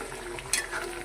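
Ground dry coconut paste dropped into a boiling chickpea curry, giving a brief soft splat over a steady bubbling simmer with a faint stir, close and moderately quiet, no voices.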